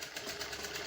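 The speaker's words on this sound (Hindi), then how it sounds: "सिलाई करने आमको प्रथम एमती सीधा सिलाई करा पड़ो" A tailor's sewing machine runs a straight seam, a quick, even whirring chatter heard close up and moderately quiet through the short stretch.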